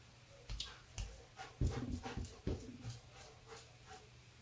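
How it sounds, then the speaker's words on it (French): A dog frets at close range, putting out a string of faint whimpers, soft panting and scrabbling taps in an irregular pulse against a low indoor background. "il y a le chien qui fait le fou devant moi en même temps"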